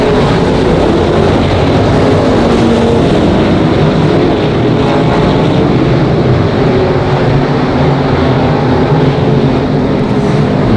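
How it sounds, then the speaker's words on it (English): Race cars roaring around Monarch Motor Speedway, a dense, loud, continuous wall of engine noise from a pack of cars at close range with no break. "gets a run on the 65 of Braden Wyatt down the back straightaway. Dives back down to the low side this time out of turn number 3"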